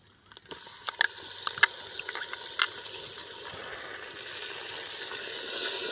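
Finely chopped tomatoes drop into a pan of frying ginger-garlic paste with a few sharp pops and crackles, followed by a steady, loud sizzle that swells toward the end.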